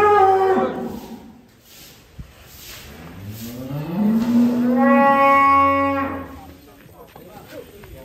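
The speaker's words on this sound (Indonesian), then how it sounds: "Kita lihat ini sapi-sapi loreng yang memang namanya loreng" A striped loreng cow lets out two long, deep moos close by, the second rising and stretching out, with quiet farm ambience between calls.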